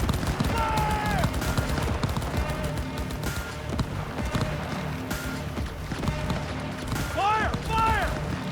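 Dense gunfire in the Cyberpunk 2077 video game, rapid shots layered over busy combat sound and music, with a few whooshing effect sweeps near the end.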